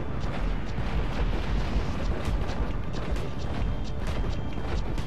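A large explosion in the video game GTA V gives a loud, continuous rumbling blast that roars steadily for several seconds, dense and heavy with no voices over it.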